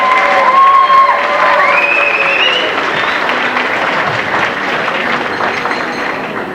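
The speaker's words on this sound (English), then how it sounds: "Give them a nice round of applause." A high school crowd at a marching band mock award event breaks into applause and cheering for the officers, loud at first and slowly tapering, with whistles and shouts mixed in.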